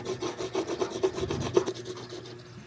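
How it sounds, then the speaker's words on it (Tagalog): A charcoal pencil is rubbed back and forth on sandpaper to sharpen it, giving about a dozen quick, even rasping strokes up close that fade out at the end. "Tapos ikuskus natin sa liha para tumulis."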